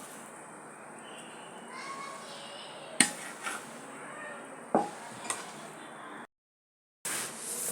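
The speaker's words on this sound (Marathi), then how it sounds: "सर्व मसाला चांगला मी मिक्स करून घेते" Spice masala being stirred through roasted poha chivda, a steady dry rustle with a few sharp clinks of spoon on pan, then a brief gap before the mixing resumes.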